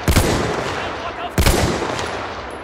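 Video game gunfire with two close, loud bursts of shots about a second apart over a busy background of noise and distant firing.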